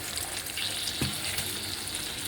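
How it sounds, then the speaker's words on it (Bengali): Sliced onions fry in hot oil in a pan for a vetki fish curry, a soft continuous sizzle close by with one brief stir or clatter midway. "তারপরে আমরা পেঁয়াজ ভাজছি।"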